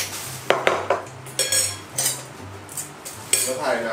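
Dishes and cutlery clink and clatter in a series of sharp knocks during dishwashing, with a low steady hum underneath and no talking.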